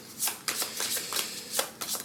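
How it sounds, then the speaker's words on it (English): A deck of Marvel United board game cards is shuffled by hand: a quick run of crisp riffling flutters repeated several times, close and moderately quiet, with no voices. "So now I'm going to shuffle."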